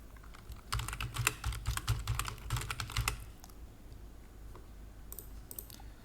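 Fast bursts of computer keyboard typing clatter close by for a couple of seconds, then give way to a few scattered, quieter key clicks over a hushed room background.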